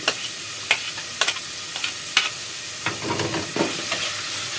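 Diced onion frying in a pan with chicken breast cubes, a steady sizzle broken by sharp clicks and scrapes as the pieces are stirred, close and alone with no talk.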